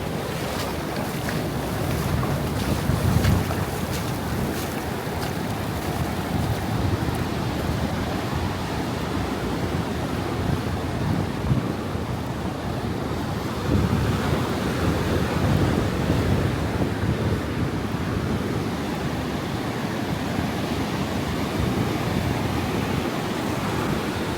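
Ocean surf rolls continuously at Canggu Beach in Bali, waves washing and breaking over a shallow shore with a rising tide, mixed with heavy wind buffeting the microphone throughout.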